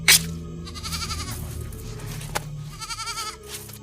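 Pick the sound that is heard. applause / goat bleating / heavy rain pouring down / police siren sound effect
goat bleating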